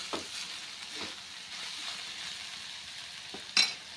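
Eggplant, finely chopped, frying and steaming in a pan, giving a steady soft sizzle and hiss with a few light utensil scrapes and a sharper clink near the end.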